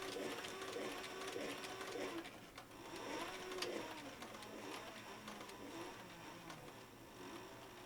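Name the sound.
sewing machine stitching leather sheath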